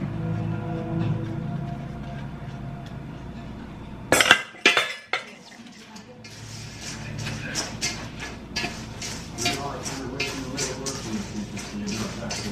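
Granola bar ingredients dumped into a bowl: a sudden loud clatter and clink of metal and glass, then rapid scraping and tapping as everything is mixed, with a voice speaking faintly before the dump.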